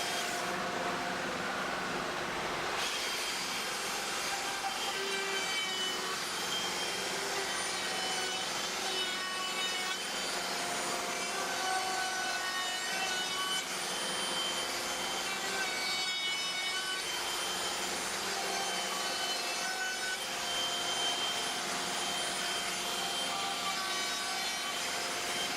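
Router cutting a 1/8 inch roundover profile along the edge of a wooden serving tray, a continuous high whining hum with steady scraping wood noise throughout, no pauses or voices.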